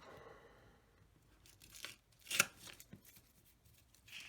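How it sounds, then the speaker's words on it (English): Score tape peels off paper for a scrapbook mini album, with two or three quick, close ripping peels against a quiet background. "Then we're just going to remove our score tape."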